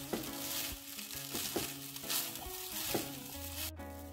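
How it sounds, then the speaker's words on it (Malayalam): Leftover cooked rice fries in a pan for fried rice, a steady broadband sizzle running throughout with periodic stirring scrapes, close and moderately loud, with no talking. "എന്നിട്ട് അതൊന്ന് ഒന്ന് ഫ്രൈ ആയി കിട്ടിക്കോട്ടെ"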